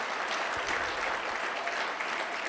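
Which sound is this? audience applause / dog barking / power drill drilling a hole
audience applause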